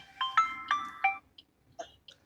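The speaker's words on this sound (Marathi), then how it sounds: "त्यांचा फोन येतोय." A mobile phone rings with an incoming call outside Sewri station in Mumbai: a bright electronic melody of four quick, evenly spaced tones, then a few fainter scattered notes.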